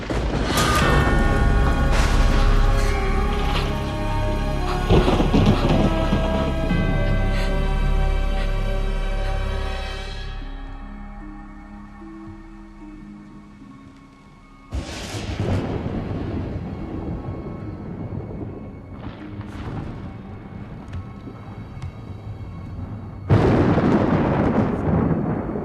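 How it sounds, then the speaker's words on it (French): Thunder from a nighttime thunderstorm rolls in long, deep rumbles, one heavy sustained peal fading out, then sharper cracks and further booming surges, loud and unaccompanied by voices. "Tu as peur de l'orage?"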